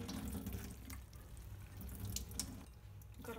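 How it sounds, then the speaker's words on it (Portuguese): Water from cooked harusame noodles drains into a kitchen sink, a soft continuous splashing and trickling with a few drips, fairly quiet and without talk. "Vou escorrer um pouquinho da água."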